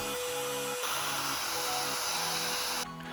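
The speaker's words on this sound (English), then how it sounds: "Using the same 1/4 inch bit, I plunge down and make the second pass-through hole for the wires." A 1/4 inch bit plunges through a cornhole board to bore a wire pass-through hole, giving a loud, steady high-pitched drilling whine that shifts once as the bit bites and ends abruptly with a short quieter tail.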